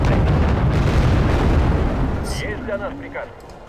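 Heavy battlefield fire from infantry units in the war strategy game Wargame: AirLand Battle, a dense continuous rumble of shots and blasts that fades after a couple of seconds, leaving scattered tonal game effects.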